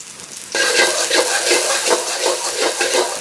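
Garlic hits hot oil for kimchi fried rice and keeps stir-frying, a sudden burst into a steady loud sizzle with a gentle rhythmic stirring pulse, close and alone.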